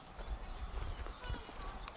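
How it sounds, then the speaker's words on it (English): A horse walks nearby, its hooves landing in a run of uneven clip-clops over a short stretch, with faint voices in the background. "That's a beautiful horse."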